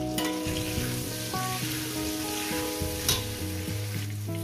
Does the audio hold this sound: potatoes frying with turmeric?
yes